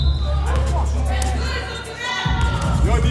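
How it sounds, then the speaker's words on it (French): Spectators fill a high school basketball gym during a Prep U Sentinels versus Alpha game, a steady hubbub of voices, shouts and squeaks under a commentator's talk. "La foule toujours présente."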